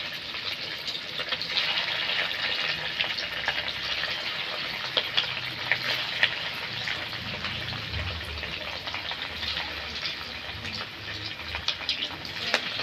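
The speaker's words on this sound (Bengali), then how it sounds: "কড়াইতে তেল দিয়ে দিয়েছি, তেলটা গরম হয়ে গেছে। আমি এবার ধোকাগুলো ভেজে নেব।" Paneer pieces fry in hot oil in a wok, giving a steady, close crackling sizzle that stays fairly even throughout with small bursts of spitting.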